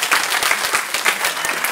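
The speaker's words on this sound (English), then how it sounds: "Can we have a round of applause for them, please?" An audience at a Boston youth playwriting showcase bursts into steady, dense applause, many hands clapping together loudly and close, sustained without a break and with no voices over it.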